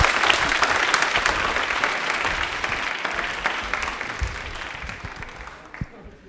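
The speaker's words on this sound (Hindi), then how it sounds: "तालियां बजा दीजिए एक बार जोरदार वाली।" Strong, sustained applause from an audience at a quiz event on Indian Railways greets a winning contestant, gradually fading out with a few last claps near the end.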